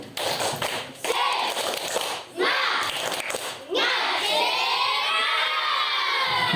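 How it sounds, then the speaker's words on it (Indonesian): Schoolchildren in Indonesia perform a rhythmic spirit clap, quick taps in bursts broken by loud group shouting and cheering, a close, busy crowd filling the whole stretch. "Bagaimana tepuk semangat?"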